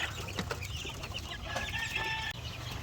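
Chicks peep and cheep close by on a farm, a busy chorus of short, high chirps with a few clucking notes mixed in, running without pause and with no speech.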